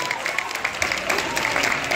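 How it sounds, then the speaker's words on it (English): Audience applause at a sorority probate event on a college campus, a brief dense wash of clapping heard from some distance, with a voice speaking over it. "you clap it up for that"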